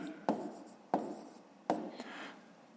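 Handwritten numbers going down on paper during a fifth-grade maths exercise, with three firm pen taps and scratchy strokes plus a lighter fourth tick, close and quiet.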